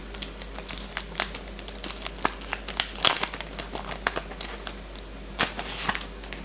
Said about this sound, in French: Il est sous emballage je vais les déballer.